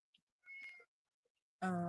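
A house cat meows close by, one short mew followed by a louder, drawn-out tonal meow after a brief pause, in an otherwise quiet room.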